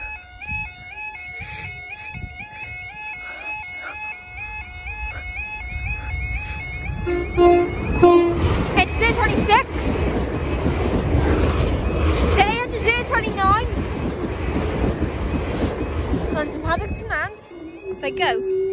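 A Great Western Railway passenger train from Swansea to London Paddington rumbles past at Pontsarn Lane level crossing, loud and continuous, with a two-tone horn sounding early and warning tones repeating throughout; distant talk underneath.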